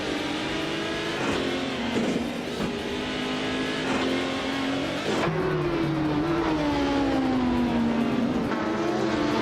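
Race cars in a racing game, among them a Mercedes-AMG GT3, roar together in a pack: a loud, continuous engine drone whose pitch climbs and falls as the cars shift gears and accelerate, without any voices.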